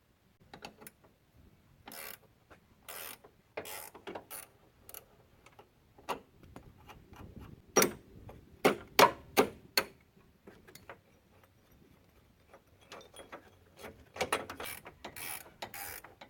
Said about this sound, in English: I'm gonna have to use a wrench and ratchet to the top